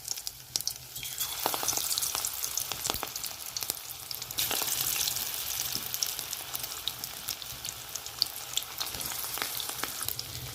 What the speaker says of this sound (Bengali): তেলটা গরম হয়ে গেছে, একটা একটা করে ফুলকপি এগুলো দিয়ে দেবো, দিয়ে ভালো করে লাল লাল করে ভেজে নেব।